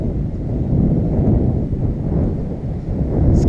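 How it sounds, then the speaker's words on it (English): Strong outdoor wind buffets the microphone in a steady, loud low rumble that persists for the whole stretch with no pauses. "Fucking windy today. I don't like that. It's so freaking windy. I don't want that wind."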